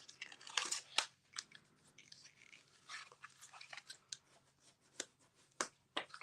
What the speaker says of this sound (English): So just take all those score lines and take a second and fold them,